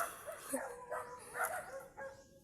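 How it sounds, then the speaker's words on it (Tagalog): A big dog gives several faint, distant barks and yelps in a loose, uneven series, thin and high against a quiet outdoor background. "Malaking aso guys."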